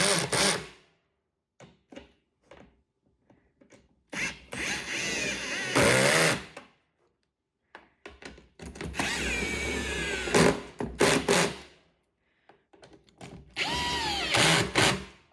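A power drill drives screws into a septic tank riser in several separate whirring bursts of a few seconds each, close and loud, with short pauses between.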